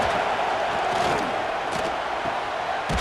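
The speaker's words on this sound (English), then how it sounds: "this home crowd is fired up and ready to make a difference today." Home stadium crowd in the NCAA Football 26 video game, a dense continuous roar of cheering fans with swelling shouts, loud and steady throughout, with no commentary over it.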